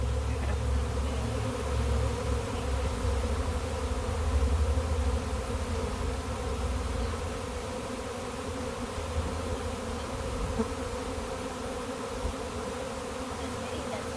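A honey bee swarm buzzes continuously at close range, a dense steady hum of many wings that stays loud throughout with no talking.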